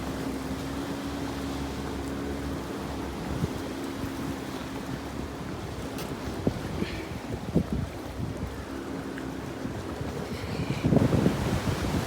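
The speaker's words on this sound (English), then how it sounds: "It's quite a windy day" Steady wind and surf wash along the Tioman Island coast in Malaysia, a continuous broad roar with gusts buffeting the microphone and a low boat-like hum, no voices present.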